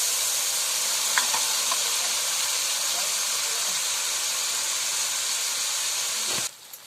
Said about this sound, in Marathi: हा चांगला आता फ्राय झाला पाहिजे मसाला